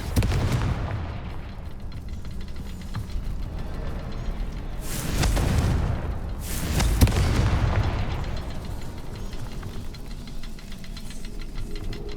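Repeated Confringo explosive spells cast in the Hogwarts Legacy video game, heard as a run of deep booming blasts that swell and fade over several seconds, loud and continuous with no talking.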